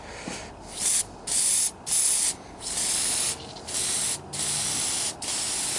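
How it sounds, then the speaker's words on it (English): Small B&M paint gun fed by air from a tire sprays leftover black paint over rattle-can primer on a 1969 Camaro, in close bursts of steady hiss with brief pauses, seven or so pulses. "I've got my little B&M. Little tiny little paint gun plugged into my tire there."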